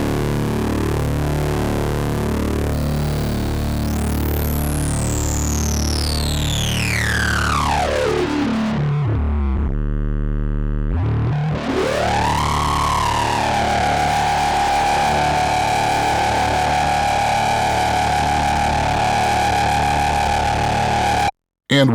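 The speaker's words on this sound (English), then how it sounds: "Let's hear some distortion. We've got oversampling activated and it's in HD mode." Pulsar Modular P565 Siren synth module run through distortion and overdrive with oversampling in HD mode: a loud, gritty sweeping tone dives steeply down, cuts briefly, then rises back up and holds a buzzing, harmonically rich pitch to the end.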